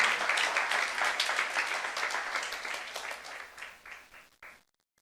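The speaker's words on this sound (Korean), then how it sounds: "믿는 사람만 박수 한번 해주세요." Korean church youth congregation breaking into applause during a sermon, a full burst of many hands clapping that gradually thins and fades out, ending in a few scattered claps before silence.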